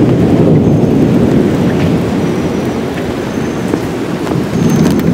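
Thunder from a lightning strike during a July storm, near scaffolding on a building, rolls as a loud, heavy rumble mixed with the wash of pouring rain, sustained throughout with no voices.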